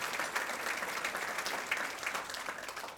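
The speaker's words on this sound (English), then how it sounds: "But please give them both a round of applause for the extraordinary work that they're doing in the legislature." An audience applauds legislators at a State of the State event in Torrance, California: a faint, steady patter of many hands clapping for a few seconds, heard from some distance.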